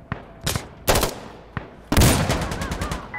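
Gunfire in the tactical shooter Insurgency Sandstorm, a few sharp close shots followed by a longer rattling burst of rapid reports, loud and punchy with echoing tails.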